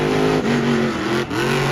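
Monster truck engines revving hard in a final racing round, a loud, close, continuous roar with harmonic pitch dips and recoveries as the throttle shifts, no voices over it.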